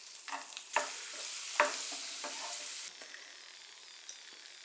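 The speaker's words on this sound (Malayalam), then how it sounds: "ഈ നെയ്യ് ചൂടായി വരുമ്പോഴേക്കും ഇതിലേക്ക് ഈ കാഷ്യൂനട്ട് ഇട്ട് കൊടുക്കാം." Cashew nuts and raisins sizzling in hot ghee in a pan for banana halwa, a steady frying hiss broken by a few sharp crackles and spoon stirs, with no voices.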